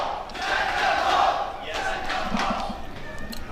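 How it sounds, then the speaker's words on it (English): An esports arena crowd at a CS:GO grand final, Liquid versus Astralis, roaring in a sustained, loud wash of cheering and shouting that swells and holds, with a commentator's voice running beneath it. "The crowd erupting at the chance of Liquid hoisting the first trophy of 2019 here"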